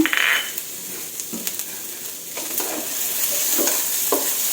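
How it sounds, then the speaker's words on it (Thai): Chili paste pounded with lemongrass, shallot and shrimp paste stir-fries in a thin film of oil in a wok, giving a steady close sizzle with occasional stirring scrapes and clinks, with no voices. "เอาพริกที่เราโขกไว้ตะไคร้หอมแดงด้วยค่ะกะปิ ลงมาผัดให้หอม"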